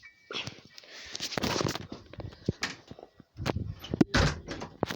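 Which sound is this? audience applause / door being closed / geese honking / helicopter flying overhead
door being closed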